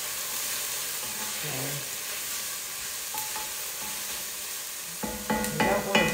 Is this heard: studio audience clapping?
no